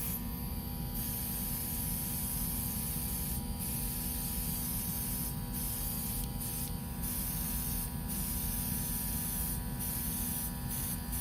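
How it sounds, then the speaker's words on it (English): A low- and high-speed airbrush sprays paint onto small pieces in a steady, continuous hiss with a constant low hum beneath it, broken by a few brief pauses in the spray, heard close up with no one speaking. "So I'm just gonna hit it with the airbrush here."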